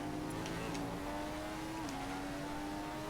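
Formula 1 car engine in the F1 2015 video game at the United States circuit, a steady high-pitched whine holding on a flying lap, with a brief pitch dip on an upshift around the middle.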